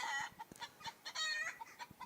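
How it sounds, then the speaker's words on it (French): Hens on a small poultry farm cluck in quick repeated bursts, close and lively, with a rooster's crow mixed faintly among them and no talking. "J'ai vu que la poule elle fait le même bruit."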